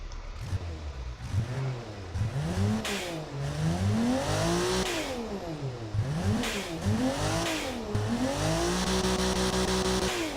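A BMW-like car engine in the Automation video game revs up and down repeatedly, rising and falling in pitch through several loud, close sweeps that hold steady near the end.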